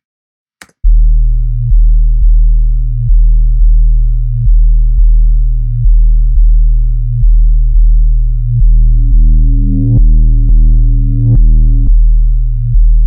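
Synth bass in a minimal drum and bass loop built in Ableton Live, a steady pulsing low tone repeating each beat, with its filter opening toward the end of the bar so brighter upper harmonics swell in, then close again; no talking.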